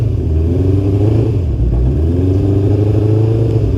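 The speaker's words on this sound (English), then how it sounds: "Okay, I will turn on the engine now." A Kawasaki Ninja GPX600 motorcycle engine runs loud and close, idling roughly with a couple of gentle revs rising and settling, and no voices.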